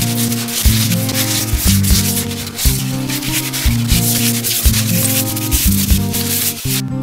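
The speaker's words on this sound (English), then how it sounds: "Next step is to rough it up a little bit with some sandpaper and get rid of all those little pieces of fiberglass" Sandpaper rubbing over a fiberglass canoe hull, loud rhythmic back-and-forth strokes about once a second, close and continuous with no talking.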